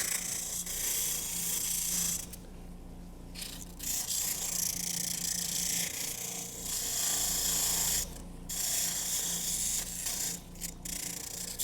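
Scraping and clicking as leftover meat is cleaned off wood duck leg bones during taxidermy fleshing, a steady close rasping texture broken by a few short pauses, with no talking.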